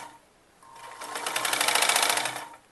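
A sewing machine runs a double line of stitching on a kurti with a back-neck dori, starting softly and building into a steady, fast whirring burst of about two seconds before stopping, close and clear.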